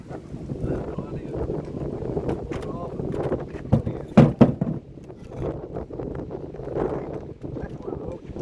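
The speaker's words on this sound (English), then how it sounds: "It's windy." Gusty wind buffets the microphone with a low, uneven rumble during magnet fishing, with people talking over it and a few sharp knocks partway through.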